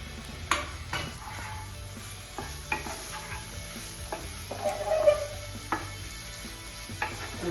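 Paneer stirred with turmeric, chana masala and pav bhaji masala in a cooking pan for makkhan bhaji, a spoon scraping and clinking at an uneven pace over a low, steady sizzle, close and fairly quiet, with no talking.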